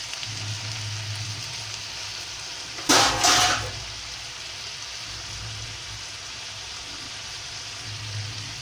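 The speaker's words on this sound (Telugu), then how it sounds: "ఇలా ఫ్రై అయ్యే వరకు వేయించుకోవటం అండి క్యాబేజీ" Cabbage fries in a pan under a plate lid, a steady rain-like hiss that holds throughout, broken once by a brief louder burst near the middle.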